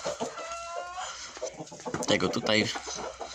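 Nearby Brahma rooster clucks and low throaty calls break in over someone speaking Polish, the bird sounds coming in short bursts.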